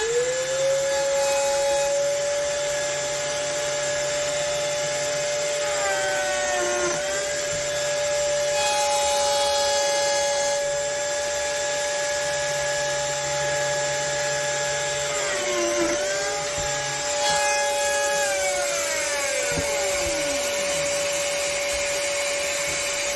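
A Lamello joining machine cuts slots into wood with a steady high motor whine, dipping in pitch three times as the blade bites into the workpiece, then winding down at the end.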